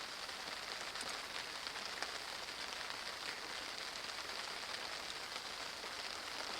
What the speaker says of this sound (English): But it is raining, pissing down.